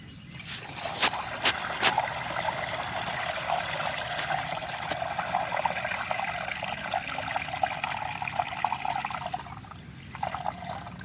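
Water mixed with pesticide is poured for farm spraying, producing a continuous close trickling and splashing stream that runs steadily throughout with a few sharp knocks early on.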